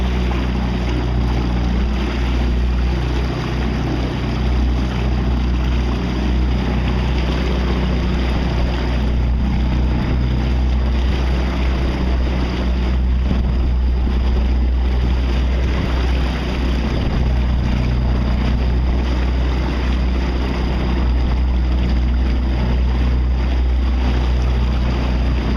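Open-water waves wash and slap continuously around a kayak, mixed with steady wind rush and a deep rumble, with no voices.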